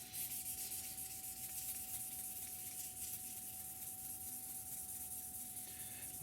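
A polishing stick rubs scratches out of a clear canopy on an Academy F-16I Sufa scale model, giving a steady, faint, continuous scrubbing under a thin background hum, close up with no voices.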